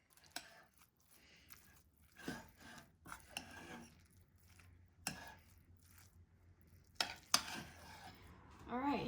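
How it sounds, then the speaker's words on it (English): Everything bagel seasoning being stirred into a pot of cooked rice, with soft scraping and rubbing strokes in irregular bursts, close and fairly quiet, with no talking. "I'm gonna add some everything bagel to the rice and mix it in"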